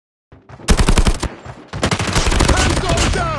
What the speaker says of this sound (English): The PP19 Bizon is a small SMG in Call of Duty Mobile, and I'm going to show you some clips of it.